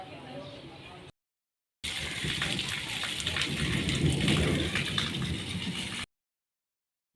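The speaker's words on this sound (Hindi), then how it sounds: "ये आप देख सकते हैं बारिश बहुत ज़्यादा हो चुकी है।" Heavy rain pouring down in a village with rumbling thunder, a dense steady hiss of downpour swelling louder in the middle, interrupted by two brief silent gaps, close and continuous.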